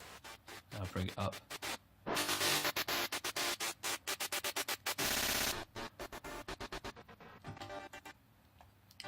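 Reverb-drenched sound sliced into rapid stuttering chops by a glitch effect, with bursts of dense noise and abrupt gated gaps.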